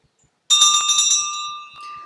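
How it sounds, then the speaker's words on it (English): A single bright strike of a timing bell at a public speaking contest, loud and close, its clear metallic tone ringing on and slowly fading in a quiet room. "Our first bell will ring at 6 minutes"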